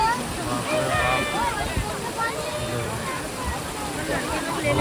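A waterfall pours in a steady, broad rush while people bathe in it. Voices and splashes sit under the constant roar.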